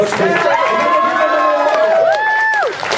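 A convention crowd cheers and shouts at an anime event, loud sustained whoops and raised voices filling the room throughout.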